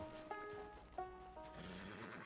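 A horse in Red Dead Redemption 2 whinnies twice in quick succession over faint hoof clops and game ambience, fairly quiet and close.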